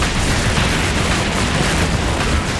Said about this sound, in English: The explosions continue.